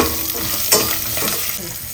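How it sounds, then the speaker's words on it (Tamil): Asafoetida sautéing with curry leaves in a pan for a quick sambar tempering, heard as a steady close sizzle with a brief scrape of stirring, no talking. "அடுத்தது கொஞ்சம் பெருங்காயம், நல்லா வதங்கணும்"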